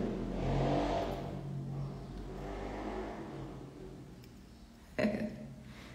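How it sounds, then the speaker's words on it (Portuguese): A motorcycle passes by outside, its engine rising and fading in a mid-pitched drone over several seconds, heard at a distance through a room, with a brief knock near the end and no clear speech. "a moto passando"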